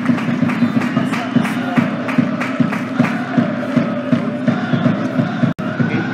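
Football crowd at a Dartford vs Phoenix Sports match celebrating a goal, rhythmic clapping and chanting with loud cheering voices, close and boisterous.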